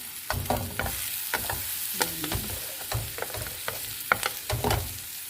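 A Thai omelette of beaten eggs fries in hot oil in a pan, giving a constant crackling sizzle with repeated spatula scrapes and knocks in an uneven rhythm, close and loud with no talking.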